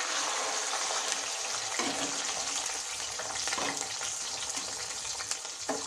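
Onion-tomato paste and ginger-garlic paste frying in hot oil in a pan, a steady dense sizzle running throughout with occasional scrapes of stirring, close and fairly loud.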